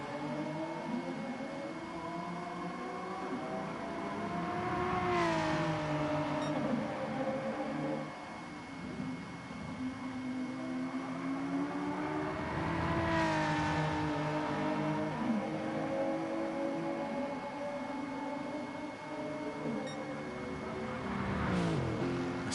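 Race cars running side by side at Interlagos in a racing game, engine tones sweeping up and down in repeated rising revs as they accelerate and shift, steady and moderately loud.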